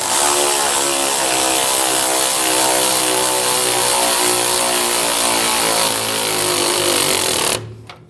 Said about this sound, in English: And tighten the top nut.